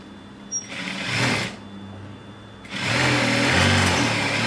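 A sewing machine stitches a box cushion cover in two bursts, a short run of stitching, a brief pause, then a longer steady run, close and fairly loud with no talking.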